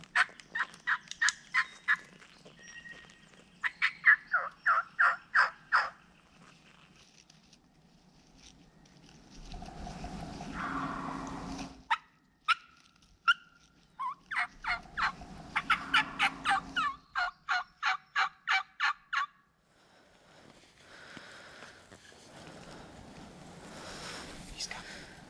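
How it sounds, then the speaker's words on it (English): A wild turkey gobbles repeatedly in mountain woods in Vermont during a turkey hunt, with several rattling bursts at mid distance separated by quiet stretches. Rustling, hushed movement and low voices come through between the calls. "see if we can get anything to gobble when we crest over"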